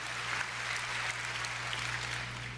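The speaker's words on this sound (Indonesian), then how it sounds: "Give Jesus a wonderful clap." A church congregation claps together in a soft, continuous wash of hand claps over a steady low electrical hum, at a moderate distance and without speech.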